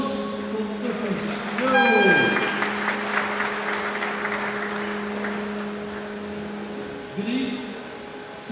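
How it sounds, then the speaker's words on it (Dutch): Outdoor applause at a sailing design contest, a broad patter of clapping from a crowd, heard alongside a passing whooshing sound and a steady hum in the background. "En geef ze een applaus"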